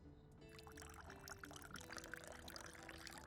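Dessert wine poured into a glass, a steady close liquid stream running for several seconds under a low background hum.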